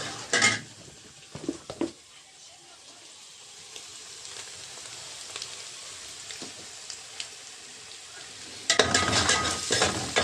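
Onion and garlic frying in a pan while being stirred, soft sizzling under clattering utensil scrapes, with bursts of clanking pan noise at the start and loud stirring near the end.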